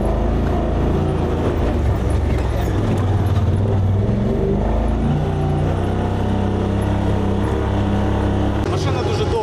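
Military vehicle grinding along a rain-soaked, washed-out front-line road, a loud steady engine drone with rumbling low tones throughout, close and continuous.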